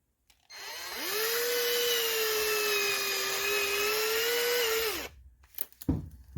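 A cordless drill/driver runs in reverse to retract the chuck on a faulty tool, a loud close whine that spins up, holds steady for about four seconds, then stops, followed by a few handling clicks.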